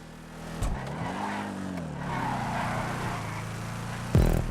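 A Declasse Vamos in GTA 5 accelerates out of a corner. The engine note is close and steady, climbing and dipping as it revs, then a sharp, louder burst arrives near the end.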